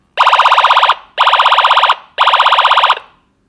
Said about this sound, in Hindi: जो नॉर्मली पहले एम्बुलेंस वाला सायरन आ रहा था वो अलग आ गया है।